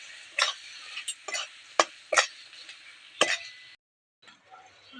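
Elephant foot yam stalk and prawn curry with lemon juice is stirred in a pan, giving a handful of sharp, separate scrapes and knocks over a faint sizzle before a brief silence.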